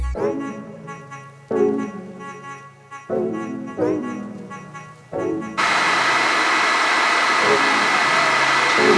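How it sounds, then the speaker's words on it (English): A hood hair dryer blows with a steady, loud whoosh that sounds close, first behind several short bursts of talking and then running alone. "I am now going to go sit under the dryer for 500 years."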